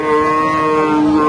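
A cow at a rural cattle market in Pabna moos in one loud, close, sustained call that fills the whole moment, with no talking over it.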